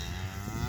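A cow in a cow-and-calf herd gives a short, close, low moo on open pasture.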